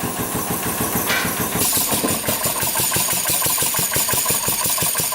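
A Suzuki RM 125 dirt bike engine fires up and settles into a fast, even idle of sharp repeated pulses, loud and close throughout.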